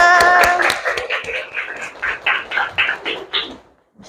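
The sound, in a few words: classroom applause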